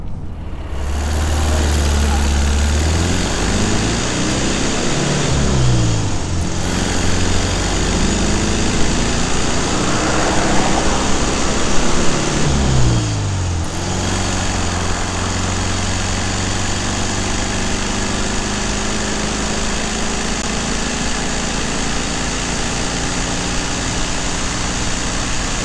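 An air-cooled VW Beetle engine labours while driving up a hill in fourth gear, a steady loud drone that rises and falls in pitch through gear and throttle changes, heard from inside the car.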